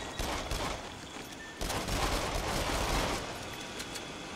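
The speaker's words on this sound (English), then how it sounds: "I'm just going to shoot everything in here." Nonstop gunfire in a PSVR shooter game, a dense, loud volley of overlapping shots that runs the whole time with a brief dip partway through.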